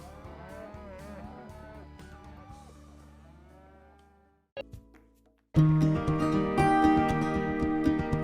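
Cattle moo in long, low, drawn-out calls, one after another, and then loud music abruptly takes over in an advert break.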